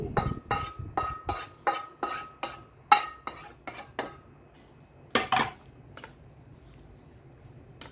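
Instant noodle salad (yum mama) with tomato and shallot is tossed in a bowl, giving a rapid series of sharp clinks and scrapes of utensils against the dish that slow and thin out toward the end.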